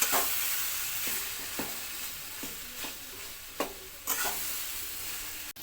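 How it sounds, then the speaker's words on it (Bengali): A metal spatula scrapes and stirs taro greens with a hilsa fish head in a frying pan, irregular clacks against a steady loud sizzle, no voices. "আবার একটু ভালো করে খুন্তির সাহায্যে নাড়িয়ে নেওয়া হলো"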